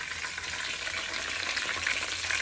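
Chicken pieces for a roast frying in hot oil, a dense continuous sizzle and crackle heard up close with no talking over it.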